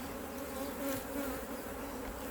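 Honey bees buzz around an open hive in a dense, continuous hum that stays steady and close throughout the short span, with no voices.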